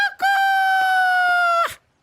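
A rooster crows once, loud and close: a single sustained, strongly harmonic cock-a-doodle-doo lasting well over a second, with no other sounds around it.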